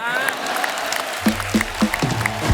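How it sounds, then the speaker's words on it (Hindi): Applause from a TV comedy show studio audience over steady background noise, with loud voices calling out on top of the clapping. "माता पिता के लिए जोरदार तालियां"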